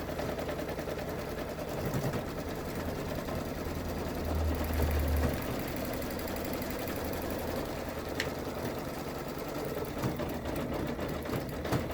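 Sewing machine stitching a paper-craft party hat, a steady continuous mechanical chatter running for the whole stretch, fairly close and even in level, with no talking.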